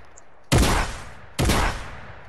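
Two loud video game shotgun blasts, about a second apart, each with a sharp attack and a decaying boom, heard alone against quiet background.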